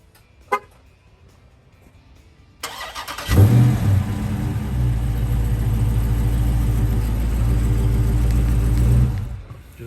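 Car started with its factory remote start: a faint click, a short quiet pause, then the engine cranks and catches into a loud, steady idle that runs for several seconds before dropping away.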